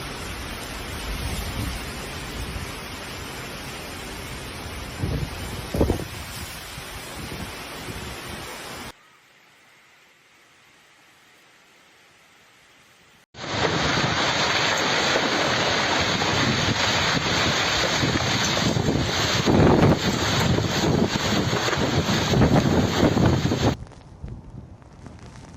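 Heavy storm rain and wind sweep over Palermo, Italy, a dense roaring hiss that drops out briefly and then returns louder and more intense before easing at the end.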